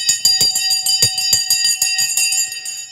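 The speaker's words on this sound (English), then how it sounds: "The Sensei bell has gone" A trading-session bell rings steadily in rapid repeated strikes with sustained metallic overtones, loud and close, with no talking over it.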